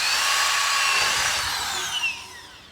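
A power drill or driver runs steadily while fitting screws to a car number plate, a continuous high whir that holds for most of the moment and eases off near the end with a brief wobble, no voices.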